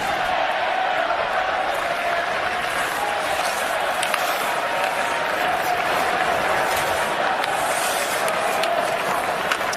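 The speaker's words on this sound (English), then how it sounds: "I hear a cheer going on here." Arena crowd noise at a Rangers hockey game during the final seconds of the regular-season finale, a steady dense roar of cheering and applause held at even loudness throughout.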